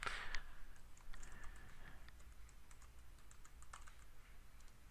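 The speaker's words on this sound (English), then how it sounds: "Simply click on the box and start typing" Faint keystrokes on a computer keyboard while data is entered into a Google Drive spreadsheet, a quick burst of clicks at the start, then sparse, scattered taps over a quiet background.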